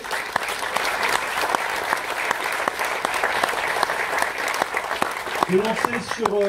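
Audience clapping at an evening event in a hall, a dense sustained wash of applause with a voice briefly speaking near the end.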